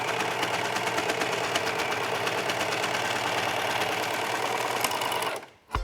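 A sewing machine stitches through four layers of fabric for a kids' workout skirt, a loud, steady rapid mechanical chatter for several seconds before it stops abruptly near the end.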